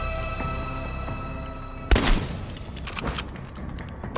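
Gunfire in the video game Chernobylite arrives as one sudden loud blast, followed by a burst of rapid crackling shots and impacts over steady game ambience, with no talking.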